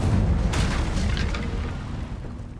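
An Incendio fire spell cast in Hogwarts Legacy bursts with a heavy whoosh and a deep boom that rumbles and slowly fades away, loud and close.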